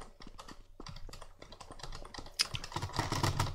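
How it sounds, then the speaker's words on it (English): Computer keyboard keys clatter in a rapid irregular run of close clicks during a Counter-Strike match, ending in louder, denser tapping and a brief sharp knock near the end. "you can hear him clicking E"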